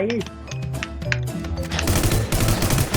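Rapid bursts of gunfire ring out in an online zombie-survival shooter, Infestation: The NewZ, firing in quick repeated volleys over a steady low rumble, loud and close, with players talking over the shots.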